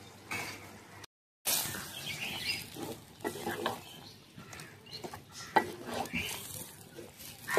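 Chicken liver frying in a pan of ginger-garlic spice paste, a steady crackling sizzle with scattered pops and stirring scrapes, briefly cut by a short silent gap, and no talking.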